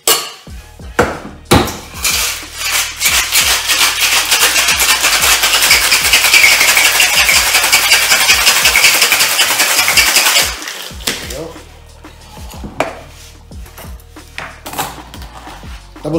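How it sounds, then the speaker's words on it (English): Ice rattles hard inside a cocktail shaker for a rum grog, a loud, steady rapid churning that lasts about ten seconds, with scattered clinks before and after. "So ice cube in the shaker."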